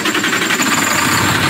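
A fire truck engine idles steadily in a video game, a loud, continuous rumbling drone with a dense buzzing texture and no pauses.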